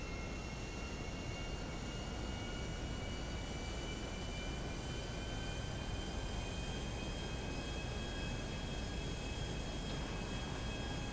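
Helicopter flying in the video game GTA 5, a loud steady broadband roar with a constant engine whine, unbroken throughout with no talk.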